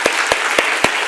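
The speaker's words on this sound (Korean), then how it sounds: "박수 한번 쳐드려야 돼요." Four sharp, evenly spaced claps ring out from a church congregation during a Korean Sunday worship service, loud and close with no talking over them.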